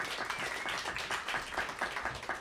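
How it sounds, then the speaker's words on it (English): Soft, distant applause from an audience, a steady patter of many hands clapping without any voices. "Let's first give a big round of applause for Dr."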